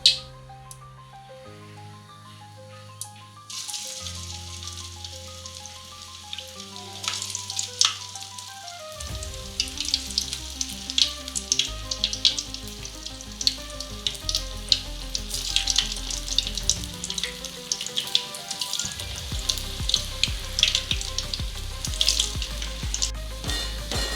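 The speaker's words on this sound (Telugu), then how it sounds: "ఆయిల్ కొంచెం హీట్ అయిన తర్వాత ఈ బాల్స్ని ఫ్రై చేసుకుందాం, డీప్ ఫ్రై చేసుకుందాం." Veg Manchurian balls deep frying in hot oil, a bright, crackling sizzle that swells after a quiet start and keeps bubbling steadily, with music playing underneath.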